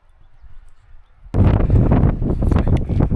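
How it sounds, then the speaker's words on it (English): Strong wind buffets a microphone on a high Colorado mountain summit, a sudden loud roaring gust that kicks in after a quieter stretch and stays up close and continuous. "it is windy to beat the band"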